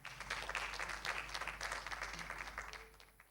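An audience at a televised singing competition stage applauds to welcome a candidate, a faint, steady patter of many hands clapping at a distance for a few seconds.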